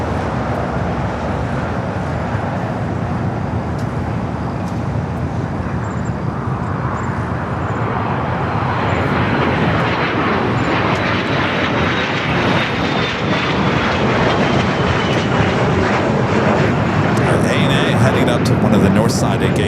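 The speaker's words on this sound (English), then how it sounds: "Ita should be heading up for a north side at takeoff on 24 left." ITA Airways jet taking off from runway 24 left at LAX, a broad engine roar that swells and grows louder over the clip, heard from a distance beneath continuous talk.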